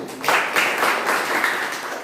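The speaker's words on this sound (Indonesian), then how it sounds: "Berikan tepuk tangan untuk kelompok 1" A classroom audience applauds a group that has just finished its presentation: a steady, dense wash of clapping hands that holds evenly for a couple of seconds at moderate volume.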